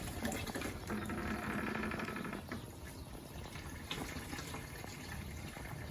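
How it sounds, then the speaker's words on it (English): Water flows and gurgles steadily through a pipe, pumped up from a tank under a van, with a faint pump hum underneath. "The water's being drawn up from our tank that's underneath the vehicle via a straw"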